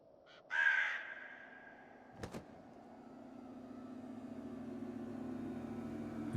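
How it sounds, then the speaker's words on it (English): In the video game The Séance of Blake Manor, a single crow caws once, fairly near and clear, followed by a brief knock and a low rumbling ambience that slowly swells. "Another crow?"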